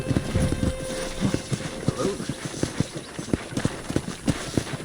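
Horse hooves clip-clop at a steady walking pace in the video game Red Dead Redemption, close and distinct, with a voice speaking briefly at the start.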